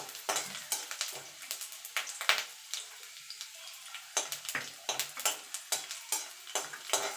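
Garlic cloves frying in a pan with a crackling, bubbling sizzle and busy stirring, loud bursts of spattering that quieten briefly in the middle before picking up again.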